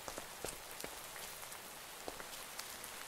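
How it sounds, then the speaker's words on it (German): Rain falls in the Minecraft video game, a steady dense hiss of drops with scattered sharper patters throughout and no voices. "Es regnet mal wieder."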